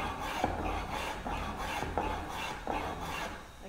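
A hand tool shaves thin curls off a wooden lid in four or five short, rasping strokes, each stroke a close scraping pass with brief pauses between.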